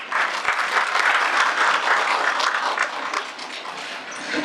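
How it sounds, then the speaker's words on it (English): Audience applause at an inaugural ceremony for a faculty development programme, a loud, steady, dense clapping that fills the whole stretch without pause. "I will clap for everybody."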